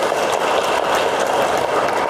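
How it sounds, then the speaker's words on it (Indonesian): Audience applause at a teachers' meeting in an Islamic centre hall, a dense, steady wash of clapping from many people throughout, fairly loud and close. "Tepuk tangan untuk Menteri Banjar ini."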